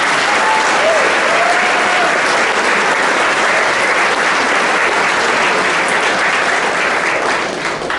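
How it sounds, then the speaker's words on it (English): A room full of people at a high school football banquet claps loudly and steadily for the parents, a thick close burst of applause that tapers slightly at the end. "Give a round of applause for our parents."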